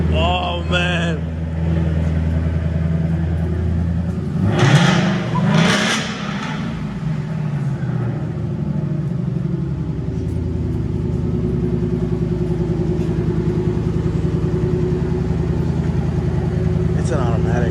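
A turbocharged car at an outdoor car show in Nashville, with an automatic transmission, revs briefly near the start and then settles into a steady, close idle for most of the stretch, with some crowd noise around it.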